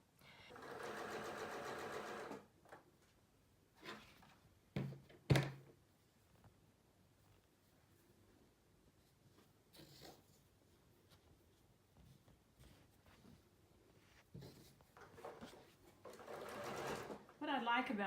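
Domestic sewing machine stitching fabric pieces together, a steady fast rattling hum in two bursts at the start and end, with handling thumps and quiet talk in between.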